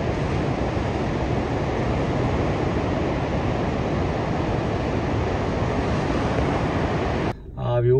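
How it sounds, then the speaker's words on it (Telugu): Ocean waves wash ashore at Ruby Beach at night, a steady, dense roar of surf mixed with wind that holds even for several seconds before dropping away suddenly near the end. "అది మొత్తం సముద్రమే"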